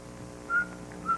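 A person whistles a few short notes of a song, faint and tentative, two brief clear tones over low room noise.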